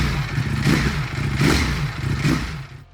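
A Ducati Panigale V4R motorcycle engine roars in three swelling surges, loud and close, with a rough clattering edge and no talk.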